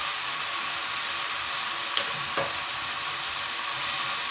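Salted onions searing uncovered in a pan for chicken and onion tajine, a steady even sizzle with a couple of faint utensil taps, close and continuous, no talking.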